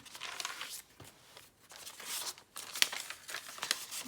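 A crinkly vellum paper pocket in a handmade junk journal is handled up close, giving soft bursts of crackling and rustling that come in uneven waves with brief pauses and a few sharper crinkles, with no talking.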